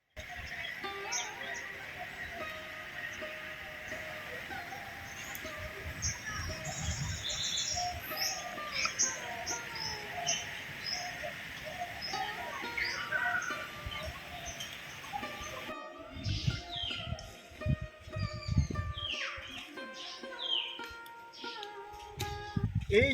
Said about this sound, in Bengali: যদি তোমাদের পাতা পড়ার আওয়াজ আর পাখির আওয়াজটা শোনাতে পারি